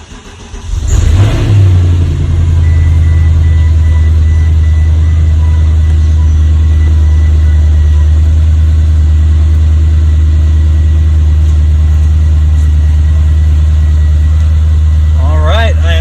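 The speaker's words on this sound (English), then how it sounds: "Now let's give it a start. It's gonna have a longer start time, longer pulls, just because of it's empty." A Mercedes S63 W221 with the M156 engine cranks and catches, then settles into a loud, steady low idle that runs on evenly; a person speaks briefly near the start.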